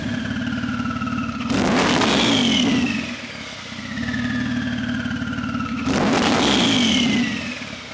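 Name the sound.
1500 bhp Porsche 992 Turbo S engine running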